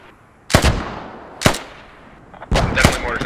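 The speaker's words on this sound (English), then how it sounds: "Definitely mortars outbound from village right now." Mortar launches in the tactical shooter Squad: three sharp, booming reports spaced about a second apart, each trailing off in a rumbling echo, with a closer double blast at the end.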